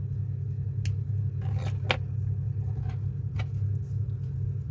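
Scissors snip crochet yarn close to a knot, a few short sharp cuts over a steady low rumble like a nearby engine or traffic.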